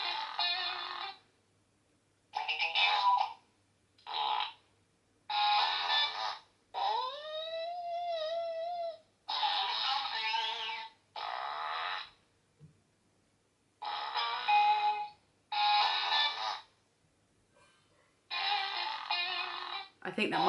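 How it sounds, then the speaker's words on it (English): A Fartist Club Ripping Randy toy figure plays a string of electronic farting noises in short, loud bursts separated by pauses, one with a rising squealing tone, with no talking. "And then it makes farting noises."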